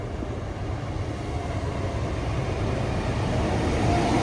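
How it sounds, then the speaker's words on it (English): A Class 150 and Class 158 diesel multiple unit passenger train pair rumbles steadily nearby, a low droning engine and rolling noise that builds slightly in loudness over a few seconds. "we're going to get this train to Mirfield. Okay, it's a 150 and 158 combination"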